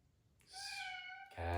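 A house cat lets out a single close, drawn-out meow that rises then settles, followed by a sudden louder sound at the end.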